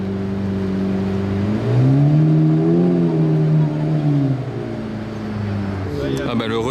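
Lando Norris's McLaren 765LT Spider drives past, its engine note climbing and falling as it comes close and moves away, with a brief new burst of sound near the end.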